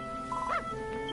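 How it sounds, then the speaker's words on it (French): A dog in the video game Dragon Quest Builders 2 gives a single short, soft bark or yip, a quick high cry over a faint steady game background. "Tu as apprivoisé le toutou."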